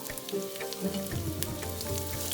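Two medium onions, chopped, fry in oil for prawn biryani with a steady crackling sizzle under a low tonal hum.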